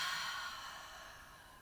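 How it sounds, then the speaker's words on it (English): A big open-mouthed exhale during yoga relaxation, a soft breathy sigh that fades out gently over about a second and a half, close and quiet. "Take one big inhale. And open mouth exhale."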